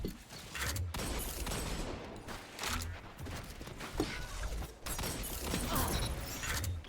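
Shotgun fire in a video game, a rapid series of booming blasts with mechanical clicks and shattering debris between shots, close and loud.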